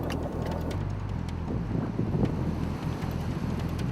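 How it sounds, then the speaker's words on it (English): Strong headwind buffeting the microphone during a cross-country bicycle race, a steady loud roar with gusty swells throughout and no clear voices. "We got a headwind."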